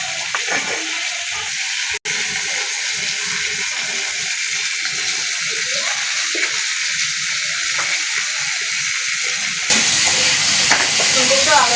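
Ground spice paste frying in a pan for a rohu fish and cauliflower curry, a loud continuous hissing sizzle with stirring scrapes throughout, growing harsher near the end, no voices.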